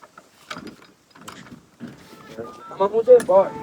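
A toy shutter mechanism is raised by turning its handle, giving sparse ratcheting clicks and whirring gear noise close by, while voices talk over the last part.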